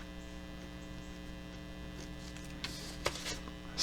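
Steady mains hum from an old capacitor wired up incorrectly, a loud continuous electrical drone with layered harmonics that holds level throughout, broken only by a few faint clicks near the end.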